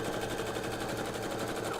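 A sewing machine fitted with an adjustable bias binding foot stitches bias binding in a fast, even run of rapid mechanical needle pulses, close and continuous.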